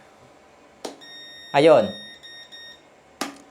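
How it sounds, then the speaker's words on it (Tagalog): A Romilly portable power station sounds its overload protection alarm, a steady high electronic beep that runs for about two seconds, with someone speaking over it and brief knocks before and after. "So, nag-alarm siya sa kanyang overload protection siguro."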